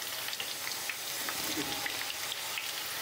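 Potatoes and moringa drumsticks fry in a pan over a medium gas flame, giving a steady, close sizzle with faint crackles and occasional stirring scrapes.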